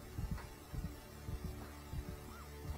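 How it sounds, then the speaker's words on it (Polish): Heartbeat in the video game Dead Space 3, a steady low double-thump pulse repeating about five times over a faint hum, with no speech. "Serce bije. Słychać."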